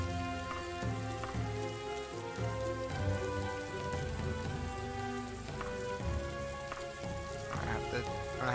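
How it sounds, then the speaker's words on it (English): Steady rain hisses across the modded Daggerfall Unity game world, a dense continuous wash that carries evenly through the whole stretch, with game music tones layered underneath and no one speaking. "Ooh, it's raining."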